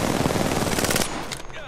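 Rapid automatic gunfire in a shooter video game rattles loud and close in a dense burst, then breaks off into a brief tail of quieter echoing shots.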